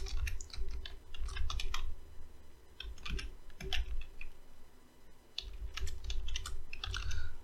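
Steady clatter of computer keyboard typing while a script is written, quick irregular keystrokes close by with short pauses, no voices.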